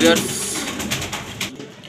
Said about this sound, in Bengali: মাদি কবুতরটা পুরো অ্যাক্টিভ ছিল